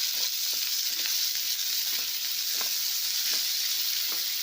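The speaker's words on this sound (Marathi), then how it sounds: "आता हे आपल्याला कांदा लाल गुलाबी कलर होईपर्यंत परतून घ्यायचा आहे" Vertically sliced onions sauté in a hot pan with a steady, close sizzle and faint stirring clicks throughout.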